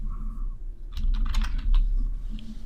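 Brief burst of computer keyboard typing while entering code, a quick cluster of close keystrokes in the middle over a low steady hum, with no talking.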